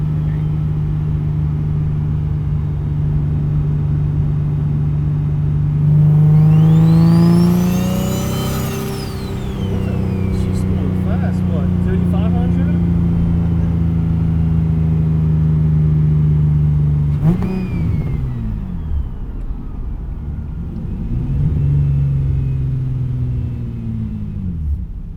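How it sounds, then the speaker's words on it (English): A single-turbo Infiniti G37 sedan in city driving, its engine rumbling loud and close, with rising turbo spools and exhaust swelling on each pull, then dropping back to idle-like cruising. "so we'll get to hear like some nice quick spools, some exhaust, some everyday turbo sounds"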